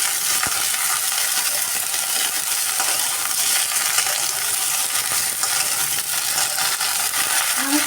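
Okra and carrot pieces fry in a hot pan with a loud, dense, steady sizzle that fills the whole stretch, close up with no voices.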